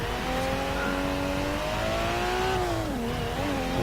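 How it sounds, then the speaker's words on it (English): Turbocharged car engine in Forza Horizon 3, an older low-horsepower car heard from the interior cam, droning steadily with rising and falling pitch as it revs and shifts, loud and continuous with no talk. "Oh, you can definitely hear those turbos"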